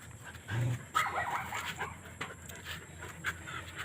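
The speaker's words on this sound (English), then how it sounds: "Some of these are bully dogs." Panting from a bully-breed dog, heard close up as rapid breathy puffs with a brief louder burst near the start and a soft ongoing rasp after, no talking.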